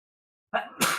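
A close, loud sneeze from a character in the video game Death Stranding: a brief voiced intake that breaks into a forceful hissing burst after a moment of silence.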